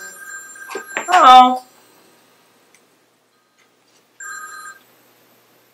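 A phone set to silent rings anyway: a harmonic electronic ringtone bursts loudly after a woman's brief exclamation, then a shorter second ring follows alone after a pause.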